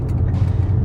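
A V8 Dodge Charger under hard acceleration, a loud, steady low engine roar held close and continuous for a brief moment with no pauses.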